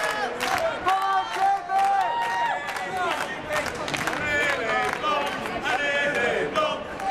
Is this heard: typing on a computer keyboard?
no